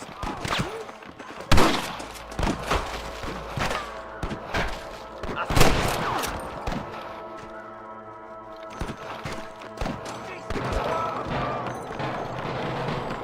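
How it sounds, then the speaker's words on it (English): Scattered gunshots in the video game Red Dead Redemption ring out, some loud and close, others distant, in irregular bursts with clattering and a voice talking in between. "I can hear more gunshots."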